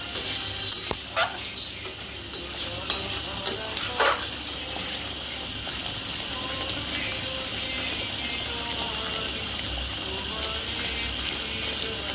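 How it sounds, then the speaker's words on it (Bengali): Cashew, melon seed and raisin paste is stirred in a pan for a Bengali vegetarian dhokar dalna, a steady sizzle running throughout with scattered scraping clicks of the spoon, busier in the first few seconds. "এটা দিয়ে একটু নাড়বেন, নাহলে এটা আবার তলায় লেগে যায়।"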